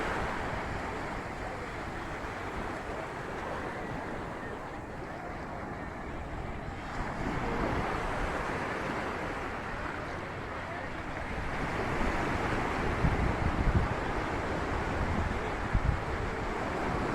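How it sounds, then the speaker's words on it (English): Strong ocean waves roar continuously up close at Somnath Beach, India, near sunset, a heavy broad wash of surf with gusts of wind buffeting the microphone. "Big strong waves."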